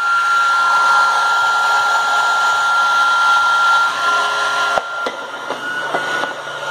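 A small air-powered hover soccer ball lies upside down with its fan whirring steadily, drawing in air and pushing it out in a constant close hiss and hum, broken near the end by a few sharp knocks.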